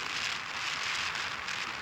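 Rain falls steadily outdoors during a traffic jam, making a continuous close hiss of drops on surfaces with no voices, brief and even throughout.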